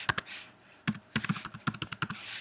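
Login details are typed on a computer keyboard in quick irregular clusters of close, crisp keystrokes, with short pauses between bursts and no voices.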